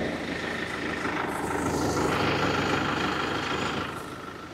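A 2012 BMW 520d diesel engine runs with a smooth, steady, fairly quiet hum that stays even throughout and eases slightly near the end, with no voices.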